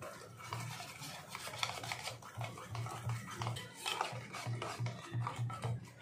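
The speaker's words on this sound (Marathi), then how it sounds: "या सगळ्या इन्ग्रेडियंट्सला आपण व्यवस्थित मिक्स करून घ्यायचं आहे" Rava cake batter being whisked in a bowl, a steady scraping stir with rhythmic clicks of the whisk against the bowl, close and continuous with no talking.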